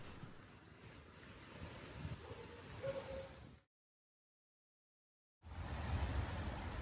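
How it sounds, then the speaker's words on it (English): Wind blows steadily and creek water flows after rain in a broad, constant outdoor rush, cut by a sudden two-second dropout to silence before resuming. "Now I can hear the sound of the wind blowing and the water flowing"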